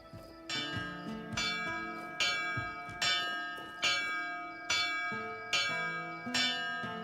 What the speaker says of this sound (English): you incessantly ringing the bell?